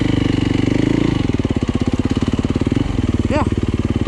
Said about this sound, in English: Let's see how low I can keep the engine speed and not stall.